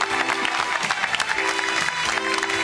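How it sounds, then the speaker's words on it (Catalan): A TV studio audience applauds guests with dense, sustained clapping at close range, with a voice speaking over it at times. "Aplaudim-los una mica."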